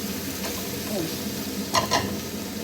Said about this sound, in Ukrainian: Смажимо до напівготовності, щоб вона така присмажилася.